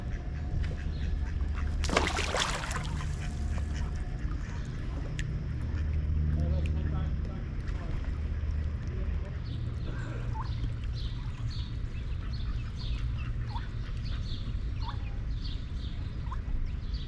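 Ducks quacking around a spring-fed pond, scattered short calls repeating across the stretch under steady outdoor ambience and a continuous murmur of people talking nearby.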